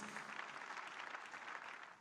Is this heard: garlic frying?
no